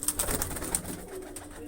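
Pigeons coo softly in a loft of new nest boxes, a few low throaty calls repeating close by over a faint background hiss.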